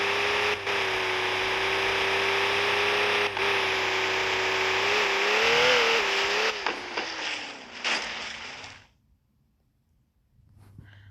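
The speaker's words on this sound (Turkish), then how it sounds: "Jazz Simulator 2'de bu araba hızlanıyor gitgide" A car in a driving video game (Jazz Simulator 2) revs with a steady rising engine tone, loud and continuous, then sputters and cuts out near the end, leaving near silence.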